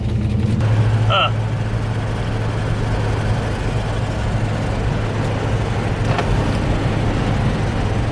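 A 1989 Ford Mustang GT 5.0 Foxbody with a 5-speed and a front end issue drives along, its steady low engine drone and road rumble continuous from inside the cabin, with brief rattles over it.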